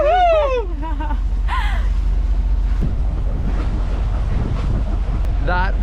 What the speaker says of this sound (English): That westerly wind blowing off the land is proper cold.